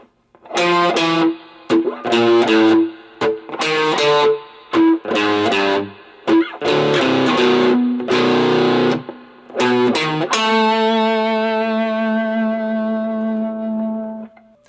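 A distorted electric guitar plays a slow lick of separate picked notes and bends, ending on a long ringing note that fades out.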